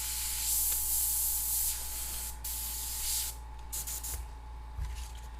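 An airbrush sprays paint on lowrider-style artwork in steady close hissing bursts with short pauses, over a constant low hum.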